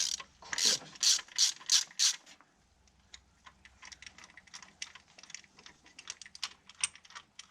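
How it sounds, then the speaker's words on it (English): A ratchet wrench loosens old spark plugs from an engine left sitting in a paddock for about 20 years. Close, crisp bursts of rapid clicking come first, then quieter scattered clicks continue. "Get these spark plugs out."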